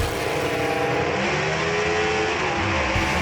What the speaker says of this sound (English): Daniel Haynes right here going to be in the left lane in that 62 Ford Falcon